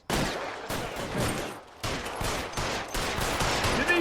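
Gunfire from the video game L.A. Noire: a dense run of sharp gunshot bursts in quick succession, loud and close, with brief pauses between volleys.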